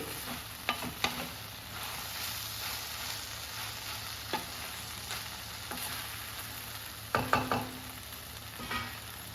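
Coriander leaves fry in a pan on a stove, giving a faint, soft sizzle with a few light scraping stirs scattered through. No one talks.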